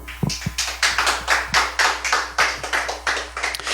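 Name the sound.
audience clapping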